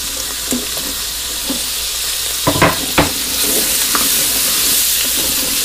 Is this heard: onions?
yes